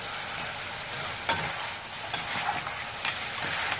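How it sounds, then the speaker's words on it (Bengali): Mutton sizzles and fries steadily in a pan for rezala, cooked with cinnamon and bay leaf, as a close, constant crackle with occasional scraping stirs. "মাংসটিকে কষিয়ে নিচ্ছি।"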